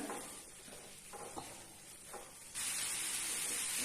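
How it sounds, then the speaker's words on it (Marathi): Mustard greens with coconut being sautéed in a pan, a steady close sizzle with light stirring scrapes that swells to a louder, continuous hiss partway through. "ही भाजी आता दोन मिनिटं आपण अशीच परतून घेऊया"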